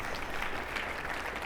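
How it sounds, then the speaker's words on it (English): A summit audience applauds a group of students, a brief wash of dense, even clapping with no clear individual claps standing out. "Let's give you a round of applause."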